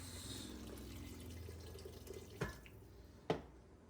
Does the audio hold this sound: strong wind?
no